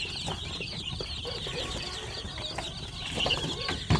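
Basilan and Zampen native chickens with week-old chicks on a Pangasinan farm, soft clucking and high cheeping chirps running continuously at moderate distance, no voices.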